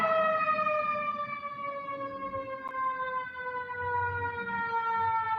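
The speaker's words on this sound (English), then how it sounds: "Even now, even when I hear, a siren" A wailing siren holds a steady, slowly falling tone for several seconds at moderate distance, heard on its own with low background rumble.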